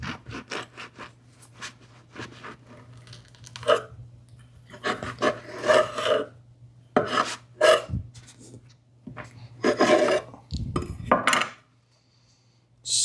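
A Damascus bread knife forged from ball bearings saws through a loaf in repeated short scratchy strokes, crisp crust crackling close by, with brief pauses between cuts.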